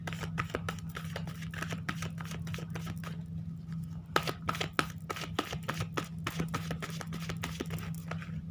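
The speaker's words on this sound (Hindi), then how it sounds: "तो चलिए मैं आपके सामने कार्ड को मिक्स करूँगी।" Tarot cards shuffled by hand in a rapid, steady run of soft riffling clicks and slaps, close and fairly quiet over a constant low hum, with no voice.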